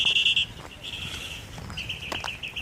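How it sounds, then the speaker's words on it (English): Birds call loudly from nearby trees at Quarry Lakes, with sustained high whistling notes and scattered chirps over faint outdoor background noise. "Loud birds in the trees."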